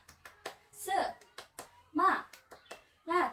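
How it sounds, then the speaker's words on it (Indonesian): Schoolchildren in a classroom chant a 'tepuk semangat' cheer, voices rising in short bursts over a steady rhythm of clapping hands, close and lively. "Coba tepuk semangat."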